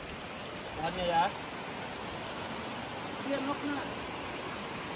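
Steady broadband hiss of rain while walking out of the traditional Baduy village in inland Indonesia, continuous throughout, with a few people talking briefly over it.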